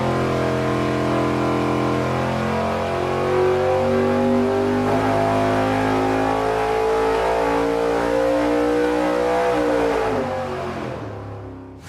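A nitrous-injected race engine jetted for a 275 shot roars on a dyno in one long, loud, sustained pull, its pitch climbing steadily before the engine cuts off abruptly at the end.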